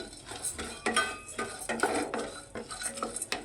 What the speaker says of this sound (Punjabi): ਬਦਾਮ ਤੇ ਕਾਜੂ ਨੂੰ ਅਸੀਂ ਰੋਸਟ ਕਰ ਰਹੇ ਹਾਂ